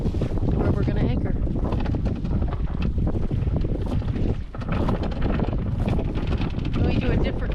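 A sailboat tacks back out under heavy wind near an anchorage, with rushing wind buffeting the microphone and water noise around the hull, loud and unbroken throughout.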